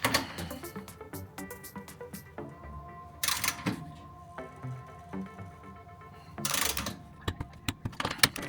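Torque wrench tightening the wheel bearing nuts on a Classic Mini, a run of close mechanical clicks and ratcheting with a couple of louder bursts, no talking.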